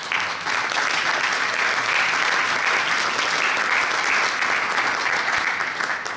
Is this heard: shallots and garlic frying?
no